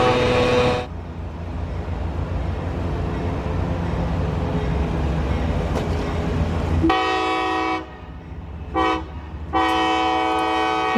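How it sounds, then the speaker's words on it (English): A colorful Tropicana orange juice freight train rolls past near Bradenton, Florida, its steady rumble and wheel noise filling the air before the horn blasts in several loud, sustained chords with short gaps between them. "this was the Tropicana juice train coming up out of Bradenton, Florida"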